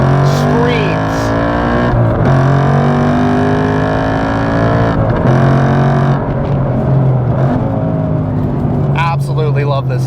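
Ford Mustang Dark Horse V8 fitted with an AWE 3-inch active exhaust, engine held and revved with a deep, steady droning note and rising harmonics, loud and close, with brief dips between pulls and some voices over it.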